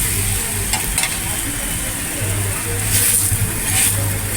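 Semolina sweet flatbread (rava poli) roasting on a hot griddle gives a soft continuous sizzle with a few light scraping touches, under a low background hum with faint intermittent talk.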